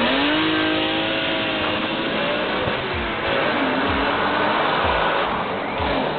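A BMW E46 M3 sports car accelerates hard in a series of rising revs and upshifts, loud and close, with a rough, buzzing engine note under music-like background sound and no speech.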